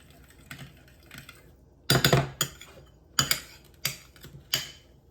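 A metal utensil stirs melted butter in a cast-iron Dutch oven, giving a run of sharp clinks and scrapes in irregular bursts, several close and loud, over a quiet background with no talking.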